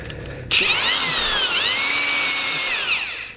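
An auger drill bores into soil for a Sentek Drill & Drop moisture probe installation, starting abruptly and holding a loud, steady whine with a wavering pitch for about three seconds before it winds down.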